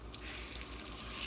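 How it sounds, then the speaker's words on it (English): A pot-filler faucet runs water into a large stock pot for vegetable stock, a steady gushing stream with a faint hiss that rises slightly as the pot fills, quiet and close by. "So now I'm just going to fill this pot pretty full."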